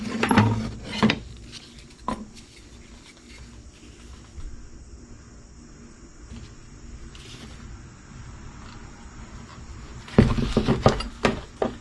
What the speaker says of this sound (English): It's wood putty, and so I'm just going to stir and stir and stir